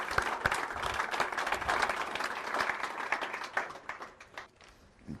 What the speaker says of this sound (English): I'd like to ask all of you to join me in a round of applause for their service.